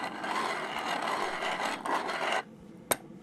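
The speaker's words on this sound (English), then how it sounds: "The Zassenhaus grinder, German grinder," A Zassenhaus German manual coffee grinder crunches coffee beans in a steady, close rasping grind that runs for over two seconds, then stops, leaving a single sharp click.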